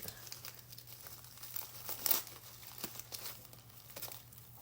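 A paper bag journal made from a paper sack is folded closed and tied up, giving close, quiet crinkling and rustling of paper with small scattered crackles and one louder crumple midway.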